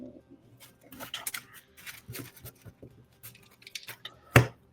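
A deck of Magic cards being shuffled by hand, a close series of soft riffling flicks and snaps in uneven bursts, ending in one louder slap as the deck is squared.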